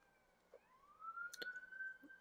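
A faint siren wails in the distance, a thin rising tone that holds steady, with a couple of soft clicks nearby.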